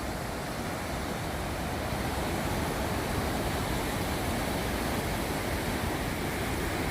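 Steady, loud, broadband roar of a Norwegian waterfall close at hand, an unbroken wash of rushing water with no voices over it.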